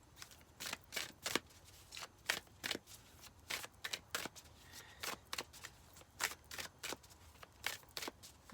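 A deck of cards is shuffled over and over in a quiet room, giving crisp riffling bursts in an uneven rhythm, close and fairly soft, with no talking.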